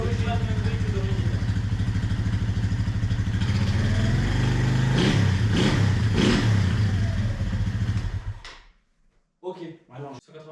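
A modified Bluroc trail motorcycle's engine runs and revs, a loud throaty idle rising in several quick throttle blips before cutting out abruptly, followed by short bursts of talk.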